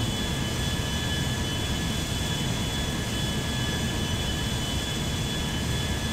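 Jet airplane engines spooling up for takeoff on a small airport runway in GTA 5, a loud, dense, steady roar with a thin high whine riding on top, continuous and close.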